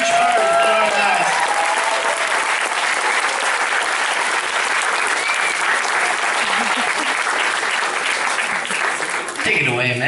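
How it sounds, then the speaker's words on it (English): Audience at a school music concert gives students a loud, sustained round of applause with cheering voices mixed in, the clapping fading into brief sounds at the end. "let's give a round of applause for these amazing students who have been a huge part of our lives."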